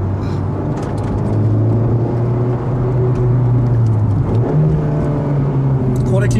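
A Honda Civic hatchback with a six-speed manual gearbox is driven hard; its engine drones steadily, then its pitch jumps sharply upward during a downshift rev and holds at the higher tone.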